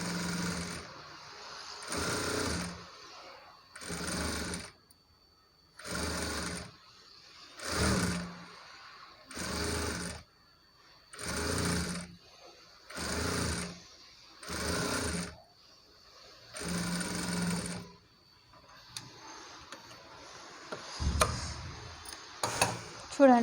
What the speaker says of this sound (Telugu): ఇక్కడ కూడా ఒక పావు ఇంచ్ అలా వదిలేసుకుంటూ నేను స్టిచ్ చేస్తున్నానండి